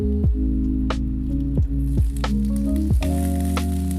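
Asparagus cooks in melted butter inside a covered pan, giving a steady close sizzle with soft crackles and a few louder pops and hisses.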